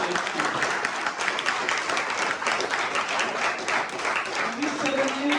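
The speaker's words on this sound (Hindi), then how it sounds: "एक बार जोरदार तालियां चाहूंगा रवीश सर के लिए" An audience at a direct selling meeting bursts into sustained, dense applause, many hands clapping loudly and evenly throughout, with faint voices mixed in beneath.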